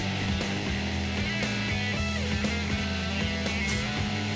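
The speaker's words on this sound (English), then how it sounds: "this music is what they actually play in Hooters restaurants" Background music from the Hooters Road Trip video game on PlayStation, a steady, dense loop with sustained bass notes and busy melodic lines playing continuously at even loudness, no voices.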